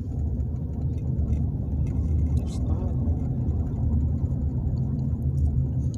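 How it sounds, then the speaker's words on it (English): Road traffic passing nearby, a continuous low rumble of car engines and tyres that swells slightly and stays steady, with no voices over it. "Yeah, it is traffic."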